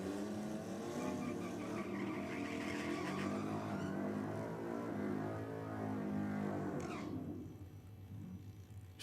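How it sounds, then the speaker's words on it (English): Ford ZB Falcon drag car doing a burnout at a no-prep drag racing event, a loud sustained engine roar with rising and falling revs for several seconds, then fading somewhat as it eases off. "Solid burnout from Elborn."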